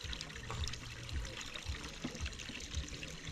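Clean water trickles and dribbles steadily, a quiet liquid flow with faint splashy pulses and low background noise, no voices.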